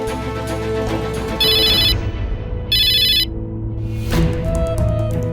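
A phone rings twice in short electronic bursts, each lasting about half a second, loud and near over a layered dramatic musical background.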